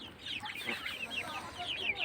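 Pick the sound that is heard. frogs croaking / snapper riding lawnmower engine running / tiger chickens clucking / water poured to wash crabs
tiger chickens clucking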